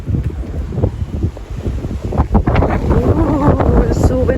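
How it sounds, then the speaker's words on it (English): Strong gusting wind during a storm buffets the microphone in a vegetable garden in heavy, uneven roaring bursts, loud and close. "Oh, it's so windy."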